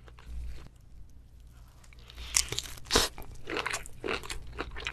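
Close, crisp crunching and wet biting into a large raw tiger shrimp, several distinct bites and chews in quick succession over a quiet background.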